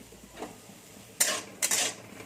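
Onions dry-frying without oil in a hot pan, stirred with a utensil: quiet at first, then two bright bursts of scraping and sizzling near the end, close by with no talk.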